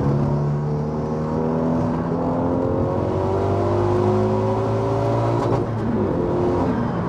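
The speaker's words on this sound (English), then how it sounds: "You could just rev it for days." A fully forged 340 bhp Renault Megane RS250 Cup engine revs steadily and loudly, holding a sustained, rising-and-falling drone for several seconds with no talk over it.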